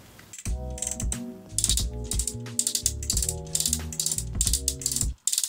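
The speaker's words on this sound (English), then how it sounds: "This ratchets are nice and loud" Ratchet joints on a Transformers Studio Series 86 Commander class Ultra Magnus toy click in loud, rapid bursts, several quick runs of sharp plastic ratcheting close up, with a musical tone playing underneath.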